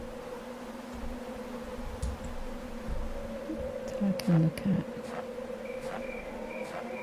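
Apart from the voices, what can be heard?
cicadas chirping in video game Darkness Within 2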